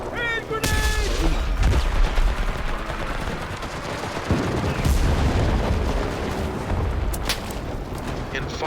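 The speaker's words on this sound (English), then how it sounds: "Hand grenade!" A loud, continuous wartime barrage in the shooter game Enlisted, with a hand grenade blast among dense gunfire and booms, close and heavy throughout with no quiet moments.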